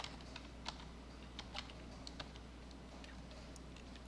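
A computer keyboard is pressed a few times during CAD drafting work, giving faint, sparse, light clicks at uneven intervals over a steady low room hum.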